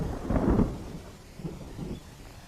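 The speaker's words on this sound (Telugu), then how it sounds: "వర్షం వచ్చేలా ఉందండి." Thunder rumbles outdoors as rain begins, one deep roll early followed by two softer, more distant rumbles.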